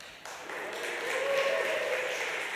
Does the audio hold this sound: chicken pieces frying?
no